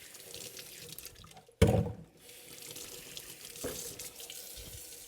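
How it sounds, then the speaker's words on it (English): Water running into a kitchen sink while an ice cream container is washed: a steady soft tap flow with one sudden louder splash as the stream hits the container, then quieter trickling, with no talking. "I'm gonna get this washed up, cleaned up"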